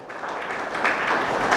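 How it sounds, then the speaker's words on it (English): Audience applause fills a summer camp inaugural session at a cultural centre, a steady crowd clapping that holds for under two seconds with no talk over it. "One big round of applause for him."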